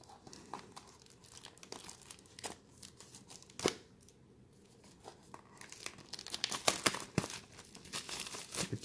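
Magic: The Gathering prerelease pack packaging for Guilds of Ravnica Selesnya being unwrapped, close crinkling plastic and tearing wrap with sharp rustles and snaps, quieter in the middle and busier toward the end.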